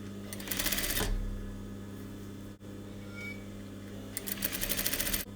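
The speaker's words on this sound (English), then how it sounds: "I'm going to sit the piping cord onto the edge of my seam and stitch down to attach it" Sewing machine stitching piping cord onto a fabric seam, two short fast-running bursts of needle chatter near and clear, separated by a quiet hum.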